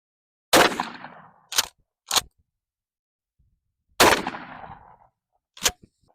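A shotgun fires Winchester Defender slug and double-aught buckshot loads outdoors: five loud, sharp blasts in two groups, some trailing into echoing decay, with near silence in between.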